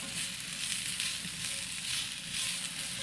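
Ginger and carrots sauté in a pan over medium-low heat, giving a steady, close sizzle of frying with faint stirring scrapes, with no talking.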